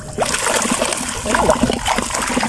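Water splashes and trickles as a blocked stream is opened, a close, busy burble and splatter filling the whole short stretch, with voices faintly underneath.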